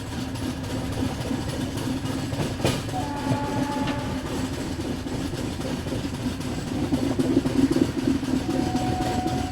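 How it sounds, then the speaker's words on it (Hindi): A double decker train pulls out of Vadodara Junction railway station, its loud, continuous rumble and rhythmic wheel clatter heard from inside a coach, with no voices. "गाड़ी निकल गई अपनी वडोदरा जंक्शन रेलवे स्टेशन से।"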